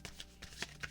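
Tarot cards being shuffled by hand in short rustling bursts, four or five quick riffles at a steady rhythm, close and fairly quiet.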